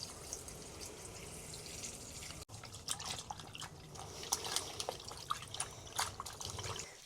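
Water trickles and drips as silk fabric dyed with loquat leaves is rinsed under a tap, a faint steady flow broken by scattered splashes and drips nearby.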